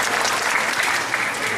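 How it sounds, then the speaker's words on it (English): Loud, dense applause from a crowd at a SeaWorld animal show featuring tamarins, continuous clapping close and full with no pauses. "Let's have a round of applause for our beautiful these right here."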